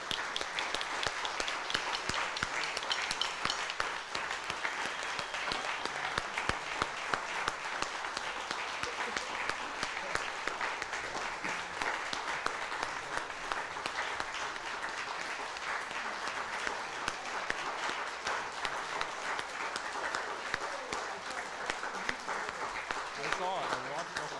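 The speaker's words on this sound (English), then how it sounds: "so huge round of applause for them again" Sustained crowd applause at a music concert, dense and steady clapping filling the room for over twenty seconds, with scattered voices mixed into the noise.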